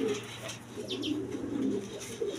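Black beauty pigeons give low, rolling coos close by, a continuous murmur with a couple of brief higher chirps midway.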